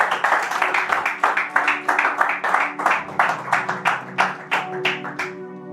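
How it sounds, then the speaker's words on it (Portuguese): A church congregation claps together in a quick, even rhythm, loud and close, with sustained musical tones beneath the claps. "Aplauda o Senhor nessa manhã, amém?"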